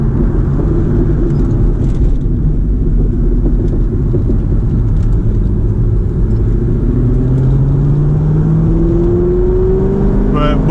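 A C6 Corvette fitted with a short-throw shift kit drives through a roundabout, its engine a steady close rumble inside the car, with the pitch rising toward the end as it accelerates.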